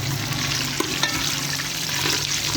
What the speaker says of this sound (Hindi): फिर हमने जो छोटी इलायची 5 से 6 अदद, इनको हम थोड़ा ऑयल में फ्राई करेंगे।